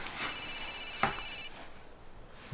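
A telephone rings with a high trilling electronic tone for about a second, partly masked by a brief clatter and room noise.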